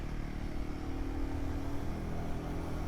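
Royal Enfield Guerrilla 450 single-cylinder motorcycle accelerating in second gear on soft, muddy ground, a steady low engine drone with mild revving that holds even throughout and sits close and prominent, with no talking.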